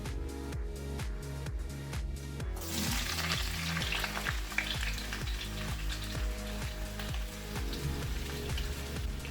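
Vegetables frying in extra virgin olive oil in a pan, a dense steady sizzle and crackle that fills the whole stretch, close and loud, with music playing underneath and no talking.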